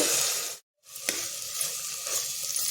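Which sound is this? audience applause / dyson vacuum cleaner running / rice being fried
rice being fried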